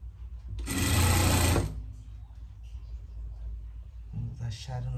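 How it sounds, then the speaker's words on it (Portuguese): A sewing machine, overlock or zigzag, runs a short burst stitching a seam for a greyhound coat, loud and close for under a second before stopping, followed by a soft handling noise and a voice speaking. "Tem overlock, você faz essa costura aqui na overlock"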